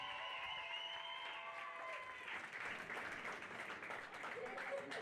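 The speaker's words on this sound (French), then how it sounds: "On les applaudit bien fort" Spectators at a show-jumping pony team prize-giving applaud the cadet vice-champion team, a faint, distant wash of clapping that swells after an announcer's voice and some music fade out.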